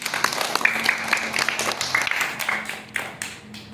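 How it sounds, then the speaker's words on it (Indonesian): Children clapping in a Quran memorization class, a fairly faint, uneven patter of hands with irregular taps, a few seconds long, with faint tones in the background. "Tepuk tangan."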